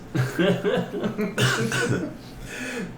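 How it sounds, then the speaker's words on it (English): A short run of close, throaty coughs, a few quick bursts in a row, with no other sound around them. "I'm coughing a lot this episode."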